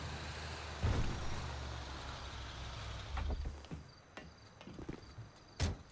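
A tow truck drives in GTA V, its low engine drone running under scattered thumps and a few sharp hissing brake bursts, moderately quiet and without speech.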